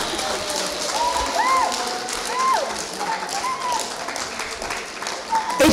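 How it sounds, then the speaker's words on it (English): Applause from a church congregation at a Good Friday service, a steady crowd clapping with voices and cheering woven through it, moderately loud and continuous. "can we give Jesus a round of applause?"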